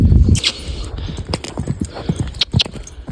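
Horse hooves clip-clopping on an arena surface during jumping training, an uneven series of close, loud thuds.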